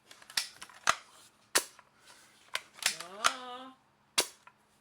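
A restored Daisy Golden Eagle BB air rifle fires several sharp, close snaps spaced apart over a few seconds, each one short and dry with a weak puff of air behind it.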